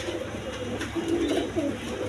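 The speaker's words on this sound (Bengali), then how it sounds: "এখানে দেখেন দুই পেয়ার কবুতর আছে" Pigeons cooing close by, with low soft coos rising over a steady background hum and no talking.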